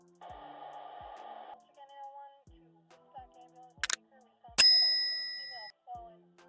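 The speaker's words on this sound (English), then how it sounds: "Things are now quiet, except for the sound of wind chimes." Wind chimes at a quiet outdoor scene, with sparse soft metallic tinkles and then one bright ringing strike that decays slowly, its tones hanging alone in the stillness.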